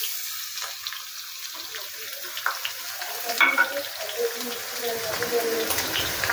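Ginger and garlic paste frying in oil with browned onions, a steady close sizzle and hiss with scattered pops and stirring scrapes, growing busier toward the end, with no one talking.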